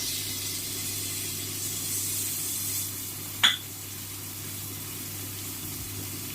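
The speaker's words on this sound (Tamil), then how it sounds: "நல்லா வதக்கி எடுப்போங்க. கலர் வரட்டும். தக்காளி போடுவோம்." Tomatoes fry with masala in a pan for prawn biryani, giving a soft, steady sizzling hiss close by, broken once by a single sharp click partway through, with no one talking.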